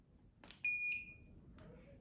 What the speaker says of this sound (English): I heard a beep and the hoverboard turned on.